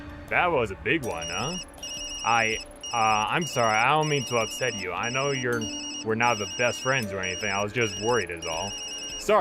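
A phone in the video game Tokyo Dark rings with a repeating electronic chime pattern throughout, steady and fairly faint under continuous talking.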